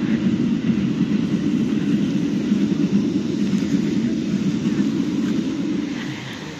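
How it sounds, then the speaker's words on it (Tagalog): Steady, loud low rumble of a train rolling past close by, holding constant before easing slightly at the end. "Ang bilis ng tren, no?"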